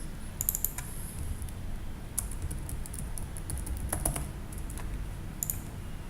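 Quiet, steady keyboard typing with scattered clicks and short bursts of keystrokes over a low background hum.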